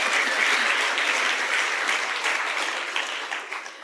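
An audience bursts into loud, sustained applause, dense clapping that holds steady and then begins to fade slightly toward the end, with no talk over it.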